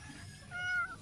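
A neighbor's cat lets out a single drawn-out meow indoors where dogs are also present, rising over a low room hum and fairly close.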